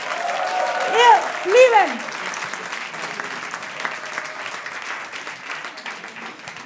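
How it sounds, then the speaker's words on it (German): Audience at a Berlin comedy club applauding steadily, a dense wash of clapping that holds throughout, while a comedian speaks briefly over it at the start. "ein Riesenapplaus für Jörg, für Hildegard, für bei Bielefeld"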